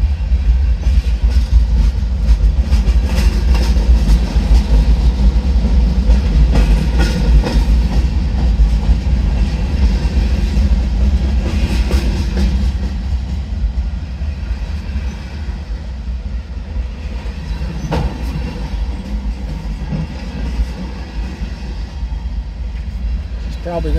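A southbound CSX M361 mixed manifest freight train rumbles past close by, its low heavy roar steady with rhythmic clacking of wheels over rail joints throughout.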